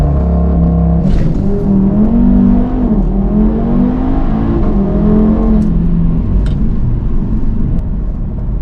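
Audi TT RS MK2 fitted with a big intake pipe accelerating hard from 0 to 60 on a road, its loud engine note climbing steadily with a brief shift dip near the start, heard from inside the car with no talk.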